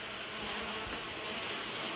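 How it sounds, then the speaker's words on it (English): Many bees swarm in a dense, steady buzz around the second layer of an opened beehive, a close continuous drone with no talking. "there's a lot of bees on the second layer"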